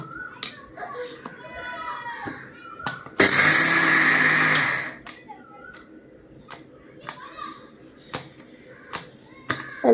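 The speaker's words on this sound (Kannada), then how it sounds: "ಮಿಕ್ಸಿ ಮಾಡ್ಕೊಂಡು ಬರೋಣ ಬನ್ನಿ." A mixer grinder runs loud and whirring for under two seconds, grinding dosa batter in a home kitchen, with scattered clicks and voices before and after.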